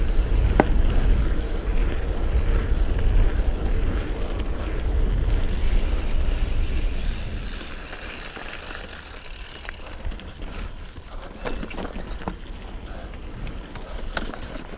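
Wind blowing outdoors over rocks, heavy low rumbling gusts buffeting the microphone for the first half, then easing to a lighter, steadier rush with occasional knocks.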